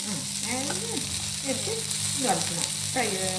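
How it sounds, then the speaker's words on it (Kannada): Cumin and touch-me-not plant fry in a pan in a village-style kitchen, giving a continuous sizzle with occasional stirring scrapes, while a soft voice murmurs in the background. "ಫ್ರೈ ಮಾಡಬೇಕು ಅದು ಹಸಿ ವಾಸನೆ ಹೋಗುವವರೆಗೆ ಅದನ್ನು ರೋಸ್ಟ್ ಮಾಡಬೇಕು"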